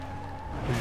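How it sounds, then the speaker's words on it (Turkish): A car engine and tyres in the Need for Speed Most Wanted beta racing game give a brief, steady motor drone that rises slightly at the end, moderately loud with no voice. "Arabanın sesi çok güzel."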